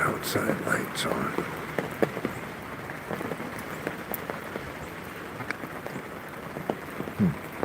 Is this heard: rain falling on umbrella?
yes